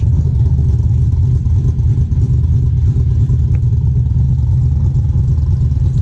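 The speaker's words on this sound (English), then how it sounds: "So we're gonna pull the truck forward, pick the engine up, and then pull the truck backwards again to get it out" A pickup truck's engine runs steadily in a garage during an engine swap as the truck creeps forward, a loud, continuous low rumble with faint clatter and no talking.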